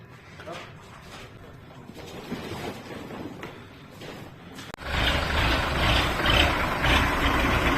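A heavy MTZ 892.2 tractor engine rumbles at idle, then revs up louder and stays at a strong, steady roar. People talk over it at first.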